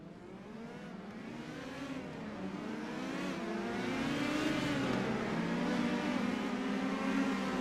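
A field of Indy Pro 2000 open-wheel race cars rolling off the grid at Road Atlanta in iRacing, engines droning and building steadily in loudness as the pack gets underway, with no talking.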